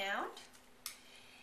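Shredded Italian beef is stirred around in a crock pot with its juices, giving a brief wet scraping swirl and a single sharp clink of a utensil against the pot, close and fairly quiet, with no talking.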